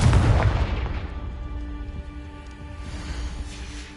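A Confringo explosive spell in Hogwarts Legacy bursts in a cellar with a loud boom at the start, then a crackling, rain-like rumble that slowly fades.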